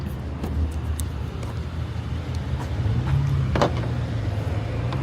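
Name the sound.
2015 Hyundai Elantra engine running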